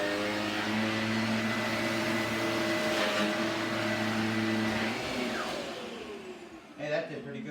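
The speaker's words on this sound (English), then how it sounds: "So we're going to start with the Shark Navigator." A Shark Navigator upright vacuum cleaner running steadily at close range, a loud continuous motor whine with a stable pitch for several seconds, then powering down and fading, followed by a short clunk.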